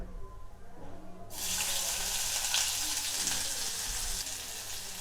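Thinly sliced onions hit hot oil in a clay pot with a sudden loud sizzle that settles into a steady, close crackling hiss.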